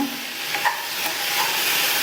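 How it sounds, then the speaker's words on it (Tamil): Sugar and water being stirred in a pan over a simmer while making sweet kozhukattai filling, a steady close hissing sizzle with soft scraping strokes throughout. "சேர்த்துட்டு சிம்லேயே வச்சு கலந்து கொடுங்க."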